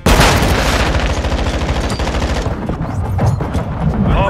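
Rapid automatic gunfire in the video game Modern Warfare 2, a dense, loud burst of shots running without pause, thinning into scattered cracks and echoing reports toward the end.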